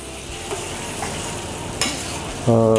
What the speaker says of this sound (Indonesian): cabai kita kita goreng terlebih dahulu atau kita tumis